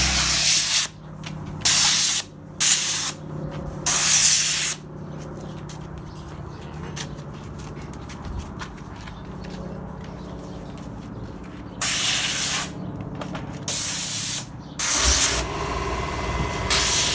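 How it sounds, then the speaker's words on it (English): Repeated loud hissing bursts of aerosol polyurethane spray on a stained glass frame, several short blasts with quiet pauses between, no talking. "Just to keep from spraying polyurethane all over the glass."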